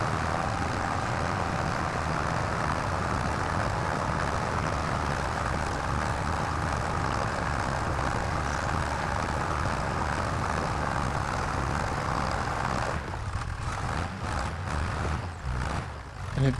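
Tractor engine in the video game Farming Simulator 25, a steady, loud continuous drone running throughout with no speech, briefly thinning and fluttering near the end.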